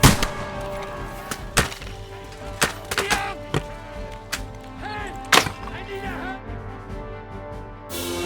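Sharp gunshot-like cracks and thuds ring out at irregular intervals during a battle in Kingdom Come Deliverance II, a few loud and close, over a steady background of ambient game noise with voices.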